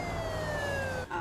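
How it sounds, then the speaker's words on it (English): A police siren wails in a slow descending sweep from a TV crime drama, steady and fairly loud against a low rumbling background, with no talking. "Put the lights on, sirens, honk the horns"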